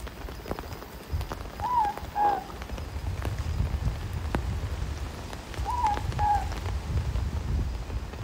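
Steady rain patters through the bush on a walk, a constant wet hiss of drops with low rumble underneath, while a bird calls twice in the background.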